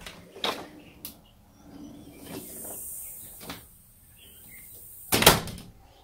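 A screen door with a newly adjusted closer cylinder swings shut, giving a few soft knocks and light creaks, then a louder latching clack near the end instead of a hard slam; no one speaks.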